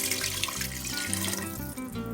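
Water pours steadily into a pot of Spanish yellow rice, a close, continuous splashing gush for about two seconds with no voices.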